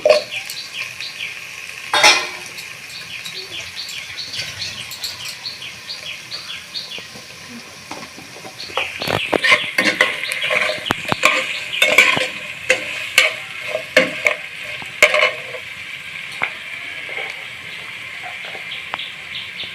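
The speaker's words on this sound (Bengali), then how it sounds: "আলু কপি এর মধ্যে দিয়ে দিব দিয়ে সুন্দর করে ভেজে নিব" Potato and cauliflower fry in hot oil and are stirred in a pan for a fish curry, a continuous sizzle broken by scraping, clattering stirring strokes, with faint bird chirps in the background.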